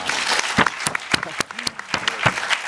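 A crowd applauds at a comedy show, a dense, steady patter of clapping close by that holds for the whole stretch.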